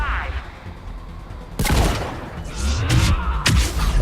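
Gunfire from Mass Effect 3 breaks out in several sharp loud bursts in the second half, over game background noise.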